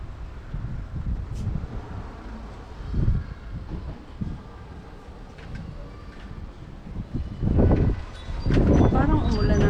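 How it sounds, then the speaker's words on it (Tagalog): Strong, gusty wind buffets the microphone on a balcony in low rumbling surges, growing heavier toward the end, with faint background noise and no clear talk. "Lakas talaga dito ng hangin sa balkon namin."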